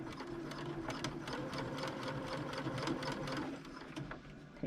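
A sewing machine stitches Christmas stocking fabric in a steady, fast mechanical run of needle strokes, close and continuous, slowing slightly near the end with no talking.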